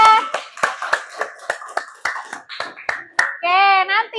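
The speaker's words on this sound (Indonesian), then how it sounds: "Tepuk tangan dulu dong buat Syahira." Schoolchildren in a classroom clap their hands for a classmate who won a quiz, giving a short run of separate, fairly close claps with a voice and chatter mixed in, followed by a brief high-pitched vocal sound at the end.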